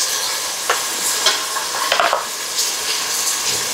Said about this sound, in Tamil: தக்காளி வெங்காயம் நல்லா வதங்கிருச்சு